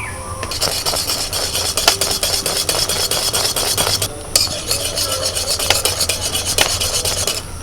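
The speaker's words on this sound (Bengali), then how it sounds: "খুব ভালো করে দুধটাকে জাল করে নিতে হবে আর ঘন ঘন করে নিতে হবে অনবরত নাড়াচাড়া করতে হবে" Milk for palm-fruit kulfi is stirred continuously while boiling down, giving a steady close scraping and rubbing of a spoon against the pan, with faint bubbling underneath throughout.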